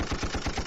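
A burst of rapid gunfire from a sound effect plays as a salute on a podcast, about six evenly spaced loud pops in under a second, with no speech.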